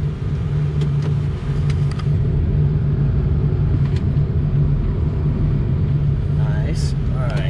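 2004 Ford F250 diesel truck with head studs reversing in four low range, a steady close diesel engine rumble and drivetrain drone throughout, with a faint whine near the end.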